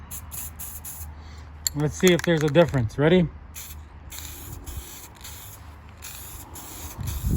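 Short bursts of hissing aerosol spray from a can of SEM Color Coat shiny black paint, sputtering on and off in the background during a steering wheel restoration, with someone speaking between bursts.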